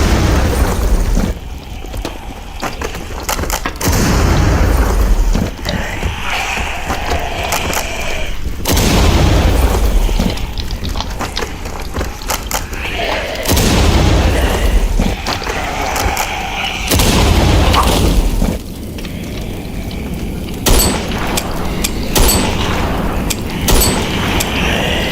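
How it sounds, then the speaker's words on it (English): Breaching charges go off in the voxel game Teardown against zombies. Loud booms hit repeatedly over a dense, constant roar of game noise and rumbling debris, with several heavy blasts spaced a few seconds apart. "a breaching charge"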